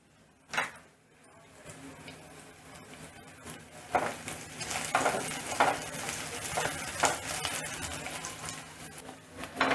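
Chopped onion sautéed and stirred in a pan for a Bhogi bhaji, close sizzling punctuated by repeated scraping and clinking stirs of a spatula, intensity building after an initially quiet moment.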